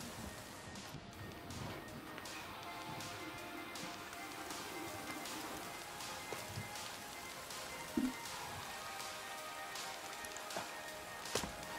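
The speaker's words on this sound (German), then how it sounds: "Dann regnet es jetzt auch wieder." Steady rain pours in the survival game The Forest, a dense, even hiss of falling water with scattered drop patter across the scene, with no voices.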